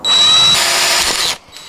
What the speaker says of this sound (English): I'm gonna pre-drill into the side of these through the panel on both corners